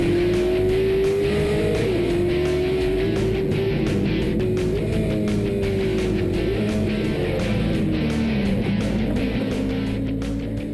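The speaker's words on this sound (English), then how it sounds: "That is vintage car racing." Vintage race cars battle wheel-to-wheel at an SVRA vintage racing event, engines droning loud and steady with pitch rising and falling through gear changes, several cars overlapping in a continuous roar.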